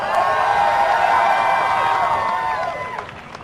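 Crowd cheering and whooping for the girls team at a live Halo 4 match event, loud at first and tapering off toward the end, with shouts mixed into the roar.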